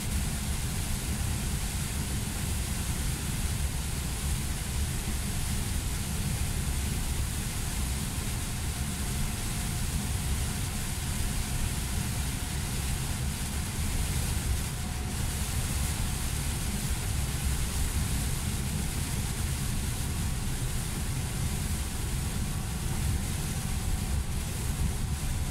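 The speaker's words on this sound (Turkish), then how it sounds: "Zaten bakın yağmur şiddetli yağıyor bir yandan." Heavy rain drums steadily on a semi-truck hauling a 27-ton load down the foggy Bolu mountain descent. The dense, even roar blends with engine and road noise and never lets up.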